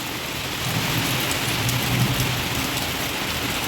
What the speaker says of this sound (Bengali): বিশাল মেঘ ডাকছে, গুরুম গাড়ুম করে একদম বাবা।